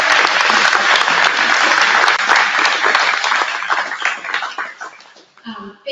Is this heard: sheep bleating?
no